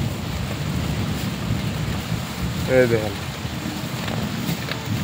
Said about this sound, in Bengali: প্রচুর পরিমাণে বৃষ্টি হচ্ছে, বাতাস, বৃষ্টি বাতাস